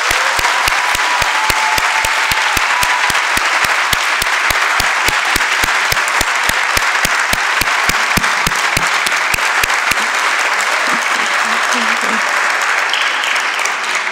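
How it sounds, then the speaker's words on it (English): Sustained applause fills a university commencement hall, many hands clapping in a dense wash, with a rhythmic thumping beat running through the first ten seconds before the clapping carries on alone. "let's give them all another round of applause"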